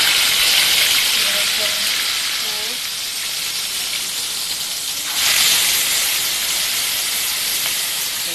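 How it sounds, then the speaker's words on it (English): Pork steak frying in hot oil gives a steady, close, bright sizzling hiss that surges louder about halfway through and then keeps crackling. "so we're going to fry this one into the oil because the oil is already hot and it's ready for the frying of the pork."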